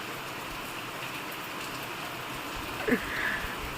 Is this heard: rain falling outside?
yes